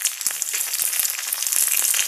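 Green chilies and curry leaves sizzling in hot oil for a curd rice tempering, a steady close hiss of frying with a few soft stirring knocks and crackles.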